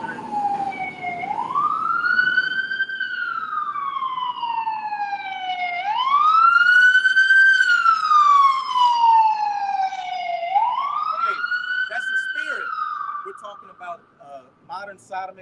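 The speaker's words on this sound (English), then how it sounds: "a fire truck just passed" A fire truck siren wails in long rising and falling sweeps, loud and close, then fading slightly as it passes, with a voice faintly underneath.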